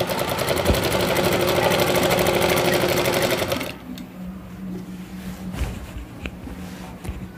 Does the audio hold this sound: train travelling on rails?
no